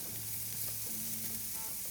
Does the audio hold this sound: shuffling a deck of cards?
no